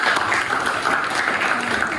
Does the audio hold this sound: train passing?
no